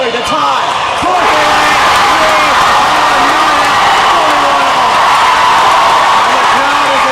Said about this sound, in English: the crowd is as loud as they've been all night.